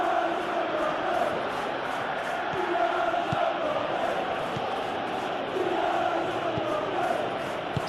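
A football stadium crowd roars steadily throughout a Crystal Palace versus Manchester City Premier League match in PES, a continuous wash of massed voices with occasional swells and faint commentary beneath.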